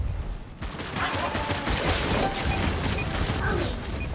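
Rapid, continuous gunfire with heavy recoil in a video game, a dense mechanical clatter of shots running steadily for several seconds at close range.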